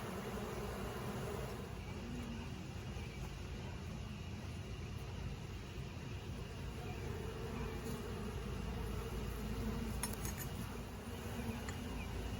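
Honey bees in a hive of sick bees crowded near the bottom give off a continuous low hum, quiet and steady throughout with slight rustling and a few brief clicks, and no speech.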